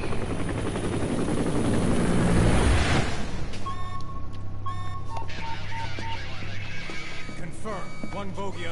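Loud helicopter rotor thrum in Metal Gear Solid V: The Phantom Pain dominates at first, then fades into a steady low engine drone with electronic beeps and tones layered on top.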